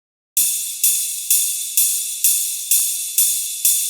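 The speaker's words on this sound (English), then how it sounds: "We've then got a ride sample, which is layered on top of the kick" Ride cymbal sample layered on a kick in an FL Studio EDM pattern, bright hissy metallic hits on every beat, eight evenly spaced strikes whose shimmer sustains between hits.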